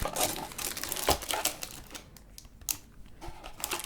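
The plastic wrapper of a Pokemon Celebrations energy card pack crinkles and rustles close up, in quick bursts of crisp crackling with brief quieter pauses.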